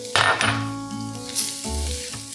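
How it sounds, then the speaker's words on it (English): Flour dropped into hot oil for a roux, a bright sizzle bursting up and then settling into a steady fry, with metallic clinks of a pot and utensil close by. "I'm going to drop in a little bit of flour"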